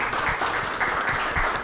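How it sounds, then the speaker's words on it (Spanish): A short burst of steady audience applause follows an architecture lecture, dense clapping carrying on evenly from start to finish. "un aplauso. Muchas gracias. Un aplauso."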